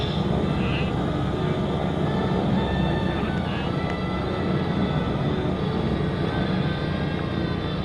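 Warplanes breaking away at an airshow, heard as a steady, broad engine roar from the distance that holds throughout with no clear change.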